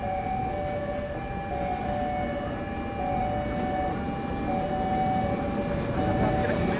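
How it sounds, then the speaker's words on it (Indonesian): A train passes through Surabaya Kota station in Indonesia, giving a steady, close rumble with faint sustained tonal whines above it. "Ini ada kereta lewat nih"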